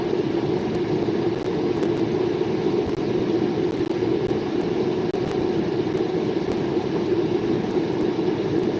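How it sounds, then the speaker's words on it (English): A freight train with two locomotives at the front rolls past in East Butler, Pennsylvania, a steady, loud, continuous rumble and rail roar holding for the whole stretch with no talking. "3 engines up front in this train, or excuse me, 2 engines up front."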